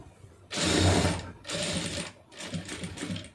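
Three loud bursts of a sewing machine stitching a saree fall, each run of rapid mechanical whirring lasting about a second with short pauses between, close and alone with no talk.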